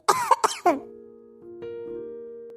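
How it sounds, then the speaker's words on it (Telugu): A few sharp, close coughs in quick succession, followed by a sustained low tonal hum, from a comedy cartoon scene. "అదిగో దగ్గుతూనే ఉన్నా"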